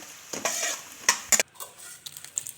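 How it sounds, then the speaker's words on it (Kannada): Unpeeled garlic fries in oil in a pan with a soft sizzle, broken by a few sharp utensil scrapes and clinks as it is stirred. "ಈಗ ಅದೇ ಪಾತ್ರೆಗೆ ಸ್ವಲ್ಪ ಎಣ್ಣೆ ಹಾಕಿ ಸ್ವಲ್ಪ ಬೆಳ್ಳುಳ್ಳಿ ಸಿಪ್ಪೆ ತೆಗೆದಲೇ ಹಾಗೆ ಹುರ್ಕೋಬೇಕು"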